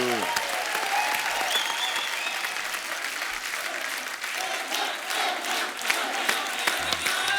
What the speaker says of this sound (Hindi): जोरदार तालियां एक बार सलमान भाई के लिए